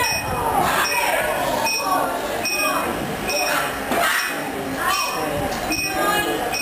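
A trained parrot at a trick show rings a small bell repeatedly, with clear metallic dings recurring roughly every half second amid steady crowd and room noise.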